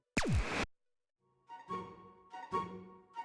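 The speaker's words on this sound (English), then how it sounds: "And a zip effect." A zip effect in a progressive house drop: a loud, bright sweep falling steeply in pitch for about half a second, followed after a short silence by two synth-heavy hits of the drop.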